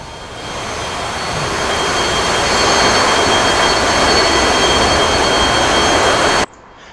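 Jet engine of an F-15EX in the DCS flight simulator, a loud steady roar with broadband rush and high whine, building over the first second and holding before cutting off abruptly near the end.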